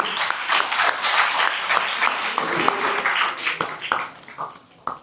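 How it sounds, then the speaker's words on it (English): A school audience at an inter-house quiz competition breaks into loud, dense applause that holds for several seconds, then thins into scattered claps and fades, with a little background chatter. "Let's hear a round of applause for all of you."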